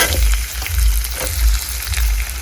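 Mustard seeds and cumin frying in hot oil, a loud close sizzle with crackle and a pulsing low rumble underneath, no speech heard.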